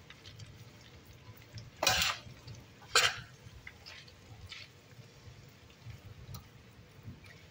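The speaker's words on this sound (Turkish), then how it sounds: "Şimdi narin narin karıştıralım." Pasta with parsley cheese is stirred gently in a large pot of cheesy pasta for a big workplace lunch, giving two distinct scraping clatters over a low, steady background murmur.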